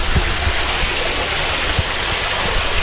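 Waterfall at level 7 of Erawan National Park, a loud, steady roar of rushing water filling the space, up close and unbroken, with no talking.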